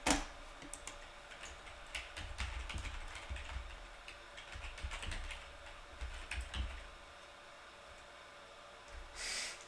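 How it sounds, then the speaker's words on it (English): Typing on a computer keyboard, quiet and close, with bursts of soft key clicks in irregular runs and occasional breathing, no talking. "Is typing okay?"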